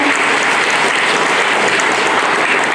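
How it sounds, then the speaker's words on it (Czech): An audience applauds a young girl singer at a children's folk singing contest, a loud, dense, unbroken wall of clapping that stays steady from start to finish. "to zaslouží potlesk, šikulka"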